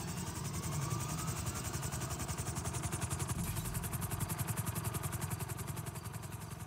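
Helicopter flying in the video game GTA V, its rotor chopping in a steady, fast pulse with a loud engine drone throughout, close and continuous with no talk over it.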